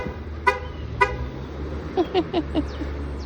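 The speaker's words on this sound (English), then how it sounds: "in a traffic jam now" Car horns honk in a traffic jam: two sharp toots, then a quick run of four short beeps, over a low hum of idling traffic.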